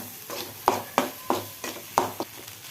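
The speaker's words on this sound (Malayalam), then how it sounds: "മുട്ട പൊട്ടിച്ച് വെച്ച് കൊടുക്കുക ഗ്യാസ് ഫ്ലെയിം കുറച്ച് വെക്കണം എന്നിട്ടൊന്ന് ഡ്രൈ ആകുന്നവരെ ഇളക്കി കൊടുത്തുകൊണ്ടേയിരിക്കുക" Egg stirred and fried until dry in a pan over a low gas flame, heard as a series of distinct scraping, tapping stirs in a steady rhythm over a faint background hiss, close and fairly clear, no talking.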